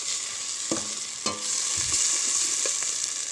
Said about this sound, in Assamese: পিঁয়াজ আৰু বিলাহীৰ পিউৰিখিনিয়ে তেল এৰি দিয়ালৈকে মই এইখিনি ফ্ৰাই কৰি থাকিম।